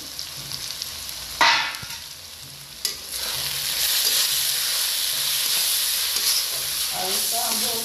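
Spice paste with chili powder, garam masala, Kashmiri red chili, kasuri methi and turmeric fries in a pan for mutton curry, a steady close sizzle with scraping stir strokes and a couple of sharper clatters.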